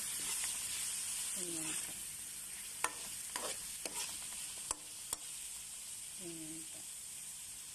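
Chopped tomatoes fry in a pan for chicken caldereta, a steady soft sizzle with a few sharp scrapes and taps of a spoon as they are stirred, while a voice speaks briefly twice.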